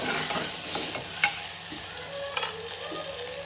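Coriander and cumin powder frying in a pan for a soya chunks curry, a steady close sizzle with soft scraping stirs and a couple of brief clinks, no voices.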